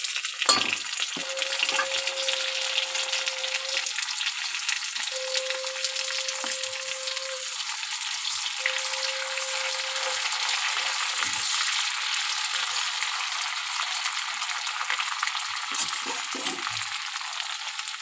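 Tomatoes sizzle and crackle steadily with fried onions in a hot pan, a constant close frying hiss with occasional stirring scrapes and a faint electronic hum in the background.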